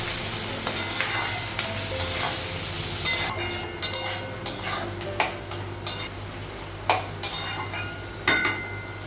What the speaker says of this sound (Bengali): আলু আর টমেটো ভাজা হয়ে গেলে তারপর মশলাগুলো লাগাবো